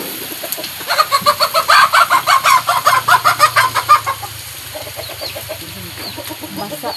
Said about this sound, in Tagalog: Kumana ko pagkaon sa mga manok.